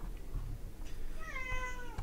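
A cat meows several times in a rising, harmonic call near the end, fairly close, over a low room hum with no talking.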